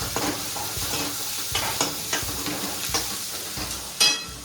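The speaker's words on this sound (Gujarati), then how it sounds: "જો થોડો મસાલો પાકવા દઈએ આપણે." Chickpea masala with chili powder frying in a pan, a soft continuous sizzle broken by repeated scraping strokes of a stirring spoon, fairly close and quiet.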